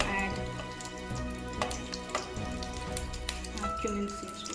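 Cumin seeds crackle and sizzle in hot oil and butter for a North Indian matar paneer, a steady spattering fry with sharp pops, under a background of music.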